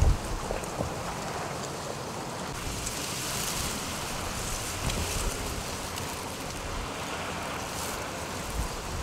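Steady outdoor wind rushing and buffeting throughout while fishing near Astrakhan, with a broad hiss and low rumble and no voices.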